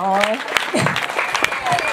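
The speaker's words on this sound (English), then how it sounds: "Can we clap for the organization?" A short burst of clapping from a group, mixed with voices talking and laughing over it, fairly close and steady throughout.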